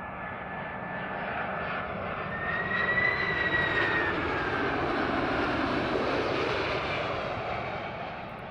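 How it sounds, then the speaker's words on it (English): A jumbo jet takes off or comes in to land at Mildenhall, its engines a loud, sustained roar that swells in the middle and then eases, heard from a distance with no voices over it. "I never get tired of seeing a jumbo jet coming into land, well, taking off as well."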